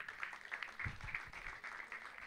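Faint applause from an audience at a cricket league prize ceremony, brisk uneven clapping sustained throughout the short stretch.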